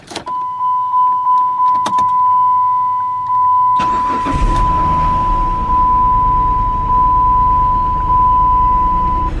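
A Dodge Chrysler 3.5L engine, fresh from a timing belt and water pump job, cranks briefly and catches, then settles into a loud, steady idle after several seconds of a constant electronic chime and a few small clicks.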